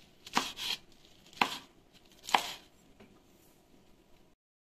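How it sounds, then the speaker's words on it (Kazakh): A knife chops lettuce leaves finely on a board, three sharp crisp cuts spaced about a second apart, close and fairly quiet, with faint softer taps after them and no voices. "салатный листьяны жіңішке етіп турап аламыз"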